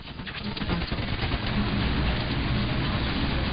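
Loud, steady hiss and crackle of AM radio noise while tuned to station KGLA near New Orleans with the signal unnulled, rough and unbroken, filling the whole stretch with no voices.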